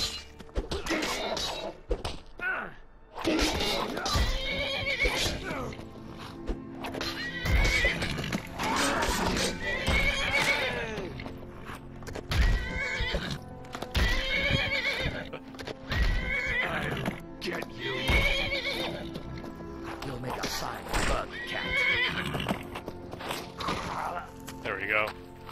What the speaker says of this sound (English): Hey, don't fight my horse.